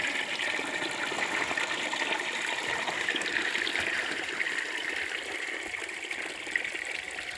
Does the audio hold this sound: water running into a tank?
yes